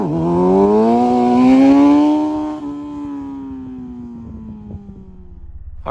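A motorcycle engine holds a rising whine during a wheelie, then eases off and fades as the bike moves away, loud at first and gradually quieter.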